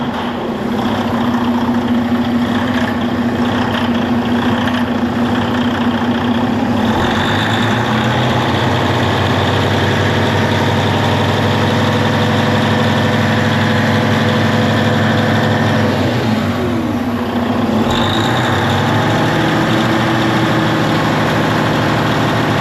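An engine that started up rough is revved a couple of times, loud and close, a heavy low drone rising into two distinct revs over a steady idle, with no talking.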